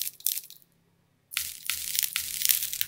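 A sample of a smashed pumpkin, pitched up and high-passed, gives thin bright crackly crunches: a short burst, a brief silence, then a longer run of dense crackling, close and without talking.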